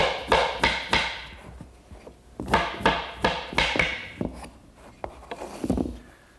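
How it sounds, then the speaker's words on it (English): Glued wooden pins and sockets of breakfront cabinet pieces being tapped together, a string of sharp close wooden knocks in two quick bursts of four or five taps each, then a few softer thumps. "I put some glue on the pins and in the sockets and just tap the pieces together"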